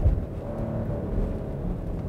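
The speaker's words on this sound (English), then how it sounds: "So, V6 certainly sounds nice." A 2022 Kia Carnival High Roof van with a 3.5-liter V6 and 8-speed automatic drives along, a steady low engine hum and road rumble from inside the cabin, with no voices.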